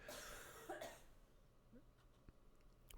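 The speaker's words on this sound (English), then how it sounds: "they added coughing sound effects" Coughing sound effect from the horror game KILLA: a short burst of coughs early on, then quiet eerie ambience with a sharper sound at the very end.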